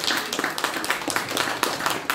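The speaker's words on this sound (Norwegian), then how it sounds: "Og så må vi gi en applaus til de som har lagt maten" A small gathering at a village chapel café meeting applauds the people who made the food, a brief patter of light hand clapping from a modest group, fairly soft and uneven.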